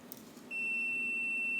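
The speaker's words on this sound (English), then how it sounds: "You'll hear the multimeter beep." A multimeter on continuity setting, used to probe connectors on a junked Eight Ball Deluxe pinball machine, lets out a single steady high-pitched beep that switches on abruptly and holds loud and unbroken over faint room hum.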